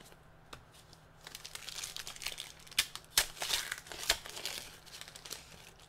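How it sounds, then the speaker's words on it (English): A pack of 2014 Panini Prizm baseball cards is ripped open, with close crinkling foil and several sharp tearing bursts building through the middle. "Rip and flip"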